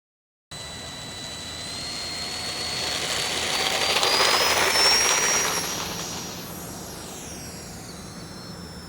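An E-flite UMX Viper 30mm electric ducted-fan sport jet flies past in low light, its high whine rising and swelling as it approaches, peaking mid-pass, then fading away with a pitch drop.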